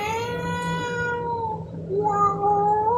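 A person imitates a cat, giving two close, loud, drawn-out meows, the second rising in pitch after a short pause, with no other sounds around them.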